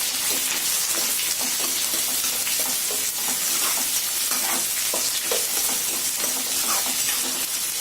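Onions sautéing in a pan for a Tamil prawn gravy give a steady, close sizzle and crackle throughout, with light scraping stirs and occasional soft taps of a utensil, and no talking.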